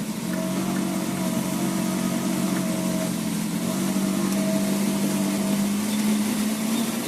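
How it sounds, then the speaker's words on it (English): A small Volvo car engine hums steadily, its pitch climbing slightly as it revs up near the end, close and constant throughout. "You can hear that thing, little engine rev up."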